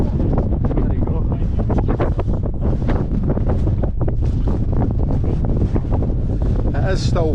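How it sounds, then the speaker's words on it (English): Steady outdoor wind buffets the microphone throughout on a winter day in the Trossachs in Scotland, a constant loud roar with gust swells and a little faint talk mixed in. "It is still windy, but there's nothing we can do about it."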